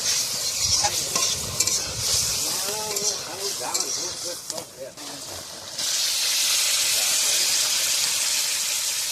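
Shrimp sizzling and frying in a pan for a Bengali village meal, with scraping stirs and a bright hiss that swells louder toward the end; a voice talks briefly early on.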